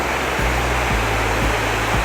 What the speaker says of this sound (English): Yes, the Kataldhara Waterfall.